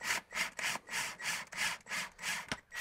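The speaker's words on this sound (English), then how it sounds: "just pilot hole drilling from the outside with the step drill" A step drill bores a pilot hole from the outside of a wooden tom drum shell, giving a rhythmic scraping grind in about eight regular, close strokes with a brief knock near the end.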